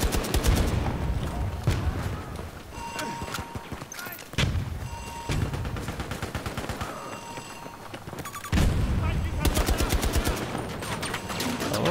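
Bursts of rapid automatic fire from WWII-era guns in Battlefield 2042, loud rattling volleys separated by short pauses, with distant shots and battle noise in between and a voice talking at times.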